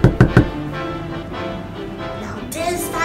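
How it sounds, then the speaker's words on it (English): Three loud knocks on a door, rapid and close, right at the start, followed by a voice speaking over faint background tones. "So he knocked on the door again."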